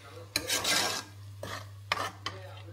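Dhaba-style chicken curry ingredients frying in a pan: a few close bursts of sizzling and stirring scrapes in quick succession over a low steady hum.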